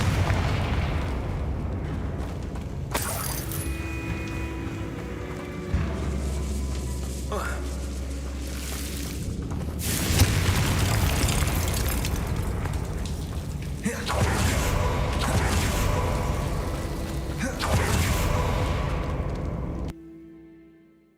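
A Confringo fire spell bursts in Hogwarts Legacy, with booming blasts and rumbling impacts layered over continuous game ambience and music.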